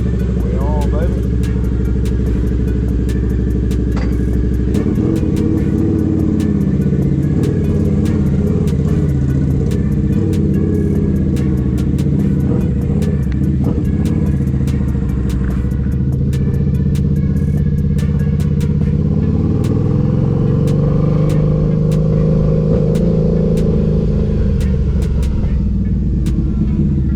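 Harley-Davidson V-Rod Muscle motorcycle, no longer turbocharged, rumbling loud and close through a steady ride with shifting engine pitch as it accelerates and eases off, and a rider talking over it.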